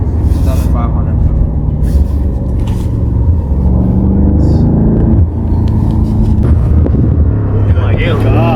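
A BMW M5 Competition's engine rumbling and revving loud and close from inside the cabin, with excited voices talking over the throughout.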